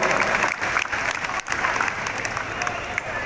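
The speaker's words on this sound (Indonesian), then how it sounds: "Boleh berikan tepuk tangan untuk beliau." Audience at an award ceremony in Aceh Selatan gives a round of applause, dense continuous clapping from a seated crowd with a brief dip partway through.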